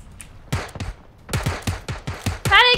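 Gunfire in PUBG, a handful of sharp separate shots spread unevenly across a short span with a burst of extra game noise at the end, alongside brief talk.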